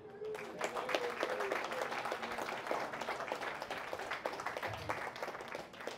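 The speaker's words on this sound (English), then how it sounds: "a round of applause for every single one of you." Attendees at a community dinner and meetup during a crypto conference give a round of applause, moderately close, made of many distinct hand claps with scattered voices, quieter and sparser than a big hall ovation.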